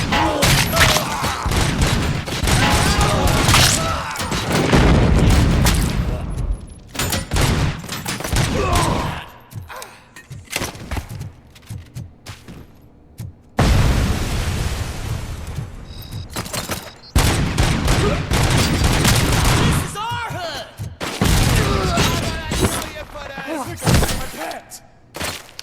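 Heavy gunfire and thudding explosions in the action game Robocop Rogue City, loud bursts with quieter pauses between them, mixed with voices speaking over the combat.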